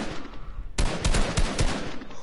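Call of Duty gunfire in a battle royale match, with a sudden close burst of several sharp shots after a quiet start and shots trailing off near the end.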